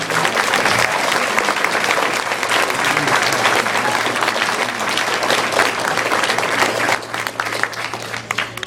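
A sports banquet audience applauding the track team, continuous dense clapping held at a steady level from start to finish, with a faint low hum underneath.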